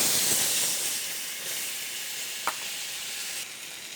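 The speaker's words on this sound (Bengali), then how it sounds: "মশলাটা কষিয়ে নেব" Spice paste fries in oil in a pan for a rohu fish curry, giving a continuous loud hiss and sizzle with one brief scrape partway through.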